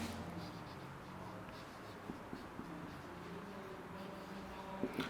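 Formulas being written out during a trigonometry lecture: faint scratchy strokes of a pen or chalk, a few light taps and scrapes against a quiet room hiss, soft and close, with no talking.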